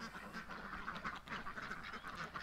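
Ducks quack steadily in a noisy chorus during a morning rush, several birds calling over one another at moderate distance.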